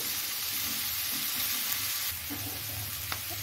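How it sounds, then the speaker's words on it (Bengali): Pieces of young jackfruit, salted and coated with turmeric, sizzle steadily in hot oil in a pan, a continuous close hissing with no voices. "শুধু এমনি ফ্রাই করব তেলে"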